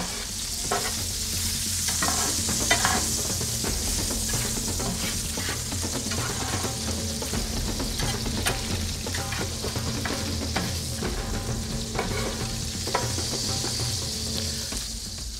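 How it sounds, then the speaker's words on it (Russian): Carrots, onion and peppers sizzle in a hot pan with a splash of soy sauce while being stirred quickly, a steady hiss broken by repeated scraping and clattering of the utensil. "Очень быстро перемешаем."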